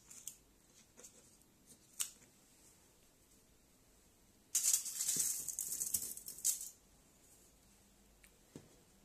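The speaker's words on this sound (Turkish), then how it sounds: "Folyomuzdan bir parça keselim şöyle." Scissors cut through a piece of aluminium foil in one continuous crinkly snip lasting about two seconds, close and fairly loud, with a few faint foil rustles and taps before and after.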